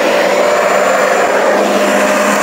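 A Bissell Power Clean Max carpet shampooer runs with a loud, steady motor whine and broadband suction roar, unbroken and close for the whole stretch.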